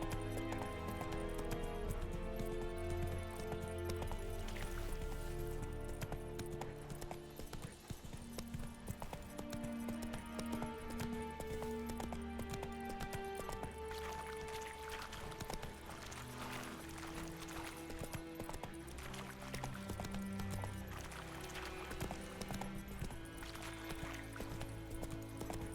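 Horse hooves beating in a steady galloping rhythm in The Witcher 3, a continuous clip-clop heard under game music throughout, moderately close and fairly quiet.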